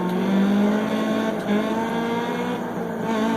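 Rally car engine from a Dirt Rally game on a German stage, a steady loud drone with a pitch that rises and then falls, a brief tire squeal near the middle, heard alone with no talk.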